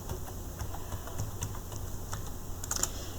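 Quick, steady computer keyboard typing while entering data in a Microsoft Excel spreadsheet, a close, continuous patter of crisp keystrokes with a few sharper taps near the end, alone without talk.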